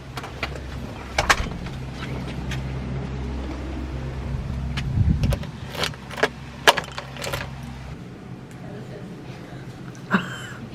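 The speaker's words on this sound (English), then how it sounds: "See the house keys?" House keys jangle in several short metallic bursts beside a car with its engine idling, which cuts off partway through; faint voices come and go.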